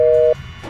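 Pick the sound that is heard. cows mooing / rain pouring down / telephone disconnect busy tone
telephone disconnect busy tone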